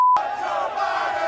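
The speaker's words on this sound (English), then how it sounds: "you can hear the chants from the crowd" A large crowd at a political rally chants and roars together in a steady, dense wall of voices, loud and sustained after a brief tone at the start.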